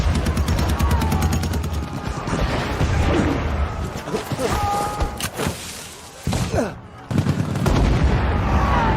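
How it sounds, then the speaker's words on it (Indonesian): Dense, continuous gunfire between German and French troops with sharp cracks and heavy thuds, a chaotic battlefield din with voices shouting beneath it. "Baku tembak pun tak terelakkan di permukaan tanah tak bertuan."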